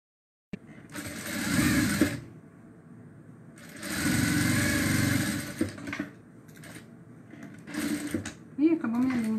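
Sewing machine stitching the seam of a doll's pajamas, running in three loud bursts of steady whirring with pauses between, and someone speaks briefly near the end.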